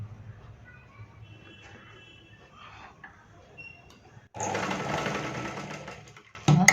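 A sewing machine stitches stacked blouse fabric strips: a quiet stretch with light handling noise, then a loud close burst of rapid stitching that stops and starts again briefly at the end.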